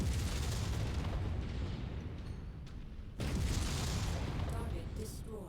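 Missile launches and explosions from the MechWarrior video game roar continuously in a dense, heavy wash of blasts, with a fresh loud burst partway through.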